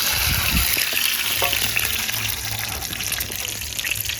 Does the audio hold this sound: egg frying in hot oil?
yes